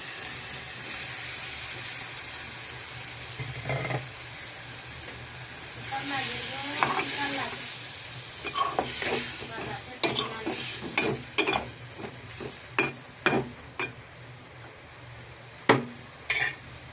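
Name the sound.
chopped tomatoes added to fried onions, frying and being stirred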